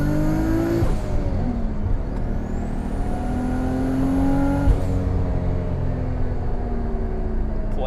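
A 500 hp Nissan R32 GT-R running about 18 psi of boost revs hard, a loud, continuous engine roar with rising and falling pitch and a high turbo whistle spooling up, heard from inside the car.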